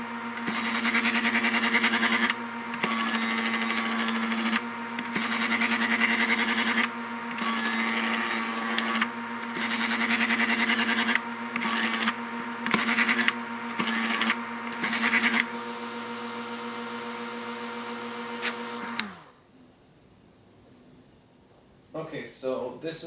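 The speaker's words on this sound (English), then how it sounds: "So we'll sharpen this knife, see if it cuts any better." A Chef's Choice electric knife sharpener grinds a kitchen knife in repeated strokes, loud steady motor whine broken by short gaps as the blade is drawn through, then the motor winds down and falls quiet near the end.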